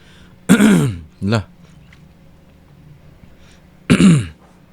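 A person clears their throat with harsh, raspy coughs: two close together, a pause, then one more, loud and near.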